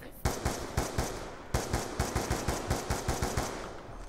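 The SMR rifle in Call of Duty: Black Ops 2 fires about fifteen sharp, loud shots in a quick, evenly spaced rhythm, with a brief break after the first few, over a quiet game background.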